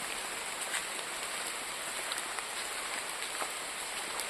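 Rain falling outdoors near a forest: a steady, even hiss of drops on surfaces, continuous and moderately soft, with no voices.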